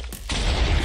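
Gunfire from a weapon in an online multiplayer video game, a sudden loud burst of shots that sets off after a brief quiet and then keeps up as a dense, continuous rattle to the end.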